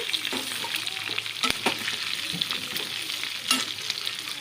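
Meat being stirred and fried in a pan, a steady close sizzle with scraping stirs and occasional spoon clacks throughout, no talking.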